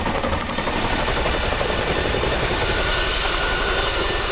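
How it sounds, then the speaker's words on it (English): A Boeing Chinook helicopter with massive 60-foot rotors flies overhead, a loud, steady roar of engine and rotor wash that fills the whole stretch without pause. "The Chinook, with its massive 60-foot rotors, was intended to carry very large payloads into very difficult areas when needed."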